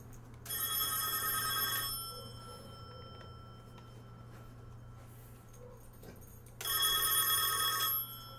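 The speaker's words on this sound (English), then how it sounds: "you never know what a phone's going to sound like nowadays" A telephone bell rings in two loud bursts, each lasting about a second and a half, with a quiet pause between them. A dog is being trained to respond to the sound, and soft faint noises fill the pause.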